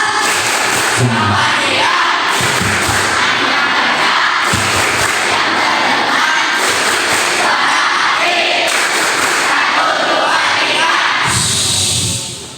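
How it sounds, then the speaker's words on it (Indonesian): A school audience at a readathon and book launch claps and chants together in the 'tepuk membaca' reading clap routine. Loud, dense group voices are broken by repeated bursts of synchronized claps, ending with a final clap burst. "Lagi, tepuk membaca."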